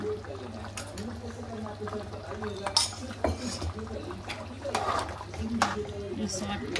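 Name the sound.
adding dry coconut paste to cooking mutton in pot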